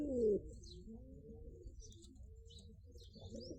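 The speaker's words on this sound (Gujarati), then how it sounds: "આ છે મિત્રો આપણા કબૂતર જોઈ શકતા છો તમે." Pigeons in a rooftop loft coo softly, low and close, with faint bird chirps and rustling; a brief louder burst opens the sequence and no one speaks.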